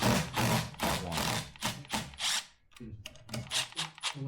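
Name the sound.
removing clutch plate bolts on a Harley M8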